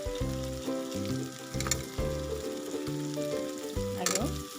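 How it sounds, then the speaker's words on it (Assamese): Potatoes go into broiler chicken sizzling in oil, giving a continuous frying hiss with occasional bursts of crackle, and a tonal melodic hum running beneath throughout. "এতিয়া মই দি দিম আলু,"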